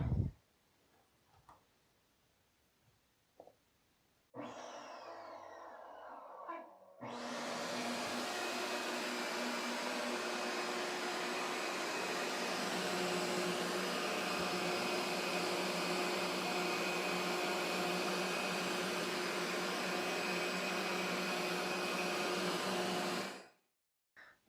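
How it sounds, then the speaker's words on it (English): A homemade mini cyclone dust collector blower driven by a shop vacuum, starting after a few clicks and a brief whir, then running with a loud, steady roar for about seventeen seconds before cutting off. "With the blower working now"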